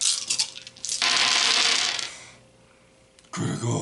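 A handful of twelve plastic dice for the Horus Heresy Betrayal at Calth board game rattle and clatter as they are tossed onto a tabletop, a brief loud burst followed by a second shorter clatter.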